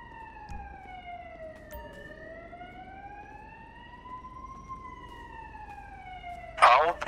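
A wailing emergency siren from police and ambulance vehicles in the LSPDFR video game rises and falls in slow sweeps at moderate volume, ending with a short burst of louder noise.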